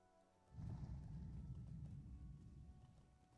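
Low distant thunder rumbling in the fantasy video game Vale of the Pine, a sustained deep roll that swells in and slowly fades over a few seconds, with no talking.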